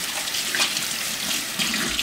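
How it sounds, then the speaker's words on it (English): Running tap water while hands are washed with soap in a home kitchen, a steady splashing rush with small irregular surges, close and continuous with no talking. "I'm just trying to get my hands clean."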